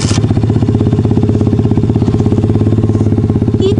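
A motorcycle engine chugs at a steady, low throttle during a first riding lesson, with an even rapid pulse, close and fairly loud, held without revving.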